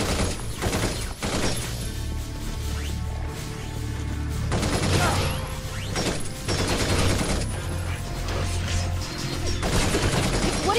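A light machine gun fires in the Binary Domain third-person shooter, long, steady, rattling bursts that run nearly without pause, punctuated by louder impacts and mechanical clatter, with the battle noise staying dense throughout.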